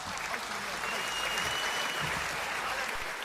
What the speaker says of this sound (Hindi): हेमंत पांडे के लिए एक बार जोरदार तालियां बजाइए।